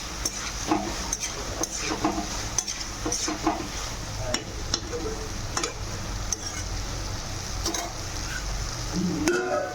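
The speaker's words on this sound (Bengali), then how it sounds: "ঢাকা দিয়ে মশলাটা ভেজে নেব।" Spice paste frying in a covered pan with Kashmiri red chilli powder, a steady sizzle broken by repeated stirring scrapes and light clinks of a utensil against the pan, close and continuous.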